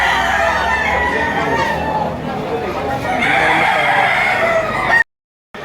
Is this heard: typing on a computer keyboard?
no